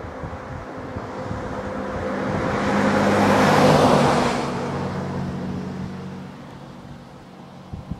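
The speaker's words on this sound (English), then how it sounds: "We're going to wait a second. Car's coming." A car passes by on a road outdoors, its broad whooshing rising to a peak midway and then fading away, with wind noise throughout.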